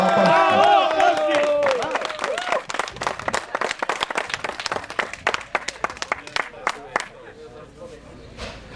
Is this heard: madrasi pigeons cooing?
no